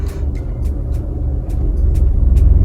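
A Nissan Magnite moving off in first gear with its handbrake released, a steady low engine rumble that builds slightly, with faint clicks over it and no talk.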